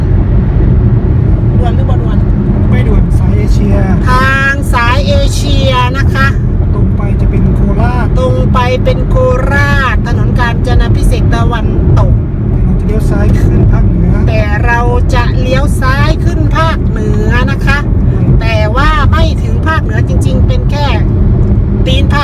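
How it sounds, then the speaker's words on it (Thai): Steady road noise from inside a moving car fills the whole stretch, with a constant low rumble while someone talks over it almost throughout. "เดินทางโดยรถยนต์"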